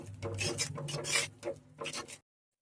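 Spices, chilli powder, coriander powder and salt, are stirred into a cooking pan, giving several close scraping, rasping strokes in quick bursts before stopping abruptly, with no talk.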